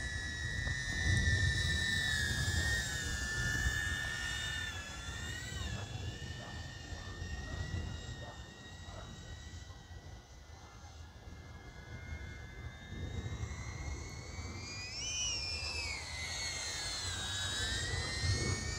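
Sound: DJI Avata drone flying in manual mode

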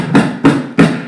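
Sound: beatboxer imitating a classic snare drum hit

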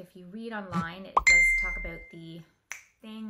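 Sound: mobile phone notification sound

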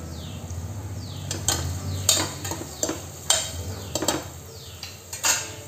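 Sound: sautéing coriander powder and ginger garlic paste in a pan

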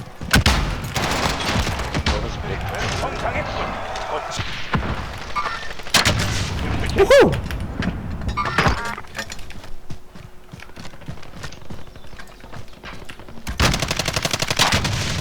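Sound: gunfire in the video game Call of Duty: Warzone

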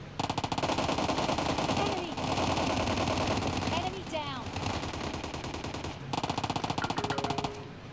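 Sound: gunfire in PUBG Mobile Lite video game

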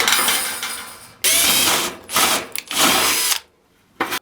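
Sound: Revolt cordless battery rivet gun setting a rivet

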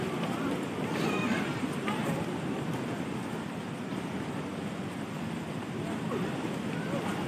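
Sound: waterfall roaring, Wang Gang Su waterfall

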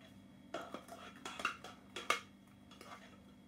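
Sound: stirring vegetable dressing into chopped greens

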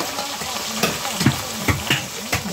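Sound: fish frying in a hot pan

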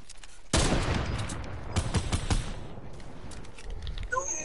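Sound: SCAR assault rifle gunfire in Fortnite video game

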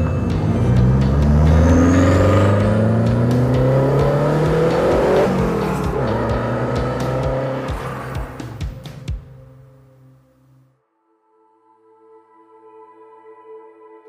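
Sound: 1980 Renault 5 Turbo car driving

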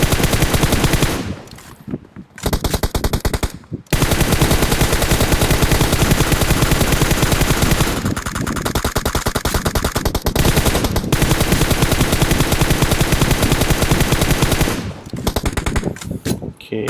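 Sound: gunfire in a video game

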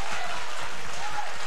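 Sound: applause in a church service

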